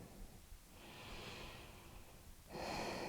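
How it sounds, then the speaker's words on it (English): Calm, natural breathing during a yoga meditation, close and soft, with a slow inhale swelling gently and a stronger breath beginning near the end, no talking. "You may begin to hear your breath."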